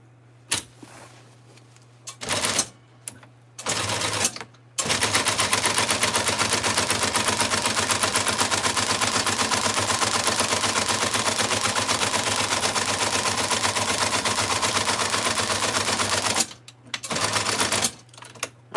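An upholstery sewing machine runs in a long, fast, continuous mechanical chatter for about twelve seconds, bracketed by short start-and-stop bursts of stitching at the beginning and end, close and loud with no talk over it.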